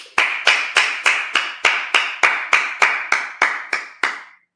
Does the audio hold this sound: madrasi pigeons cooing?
no